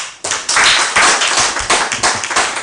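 Audience clapping at a hybrid mental health conference, a sharp, bright round of many hands that starts abruptly and keeps a steady, close rhythm for a couple of seconds, with no voices.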